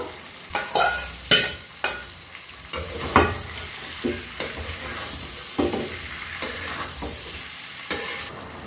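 Tomato and onion frying in a pan with coriander powder added, a steady sizzle broken by several sharp spoon scrapes and stirring knocks against the pan, close and fairly loud with no talking.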